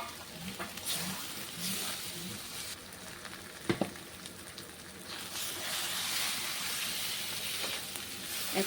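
Fried taro and potatoes are tipped into spiced masala in a pan and sizzle and hiss steadily. A sharp clatter of stirring breaks in midway.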